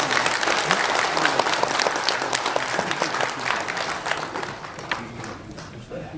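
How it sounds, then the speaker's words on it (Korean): A lecture audience applauds as the speaker is welcomed to the podium for a modern-history talk, steady dense clapping filling the room and thinning slightly toward the end. "큰 박수로 맞이해 주시기 바랍니다."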